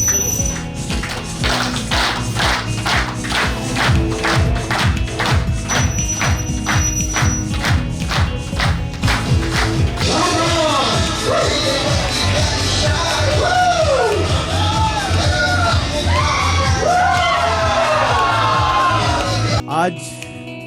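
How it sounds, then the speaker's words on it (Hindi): Audience at an anniversary event claps steadily, with rapid hand claps through the first half, then cheering, whoops and shouts rise over the clapping in the second half, loud and close. "और फिर हम ताली बजाएंगे"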